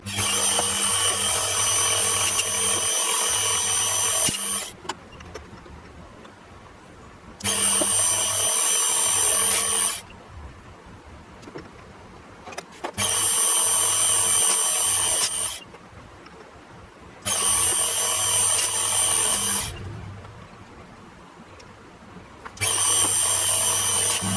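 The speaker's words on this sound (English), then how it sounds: "I'm going to drill 5 holes in here" A power drill whines loudly in five separate bursts, each lasting a few seconds, drilling holes in metal for a model steam engine, with quieter pauses between them.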